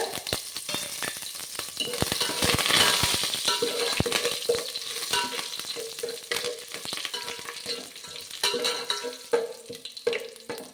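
Curry leaves and onions fry in hot oil for a kohlrabi and pigeon pea sambar, making a steady close sizzle with bursts of crackling and occasional scraping and stirring knocks against the pan.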